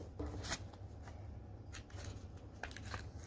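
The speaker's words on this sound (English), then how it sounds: "I'm going to go ahead and tape these wings on here" Paper wings are taped onto a small model, with soft close crinkles, quick tape tears and rustling handling noises in short scattered bursts over quiet room tone.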